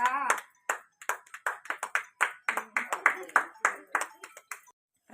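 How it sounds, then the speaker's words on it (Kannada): Hands clap in a ragged group at a New Year celebration, a dozen-plus sharp slaps in uneven rhythm, close and clear, mixed with brief voices. "ಚಪ್ಪಾಳೆ ಕೊಟ್ರಮ್ಮ"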